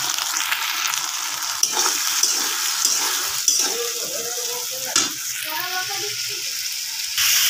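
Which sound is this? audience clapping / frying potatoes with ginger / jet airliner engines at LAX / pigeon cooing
frying potatoes with ginger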